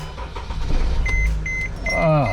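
A 2015 Mercedes Sprinter 2500 van with a newly replaced battery gives a few short electronic chimes, then its engine cranks and turns over with a low rumble. Heard up close inside the cab, with faint voices in the background.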